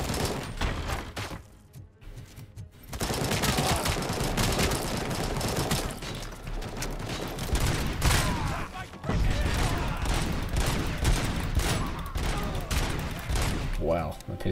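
Pistol fire in RoboCop: Rogue City, rapid repeated gunshots in dense bursts amid loud combat noise, with a short lull early on and a voice speaking over parts of it.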